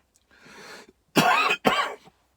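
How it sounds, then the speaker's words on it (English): A man coughs twice in hard, harsh bursts, close to the mic, after a brief softer rasp like throat clearing; the cough sounds chesty and has lingered for weeks. "It's not shifting this cough, I'm telling you."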